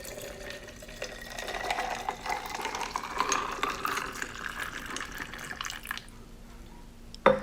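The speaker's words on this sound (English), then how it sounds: "Now I'm adding all the juice in here until it's completely full." Papaya cantaloupe juice pours steadily into a pitcher, a close, continuous liquid stream with a rising fill tone as it nears full, ending with a brief clink.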